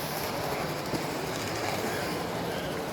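Model trains running on a display layout at a model train show in Montreal, a steady close rolling rumble and faint clatter of wheels on track with crowd noise behind, continuous and fairly quiet throughout.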